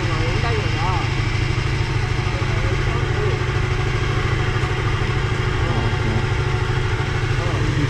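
A Yamaha RX motorcycle fitted with a centrifugal silencer idles close by with a steady, rattling two-stroke putter that runs continuously without a break.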